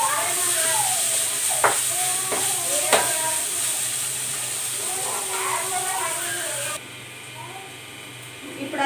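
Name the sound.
ginger garlic paste frying with onions in pan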